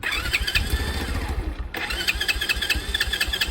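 A carbureted Grom clone motorcycle engine cranks over and catches, running with a rough, pulsing mid-pitched rhythm that stays loud and close throughout, with one brief dip partway through.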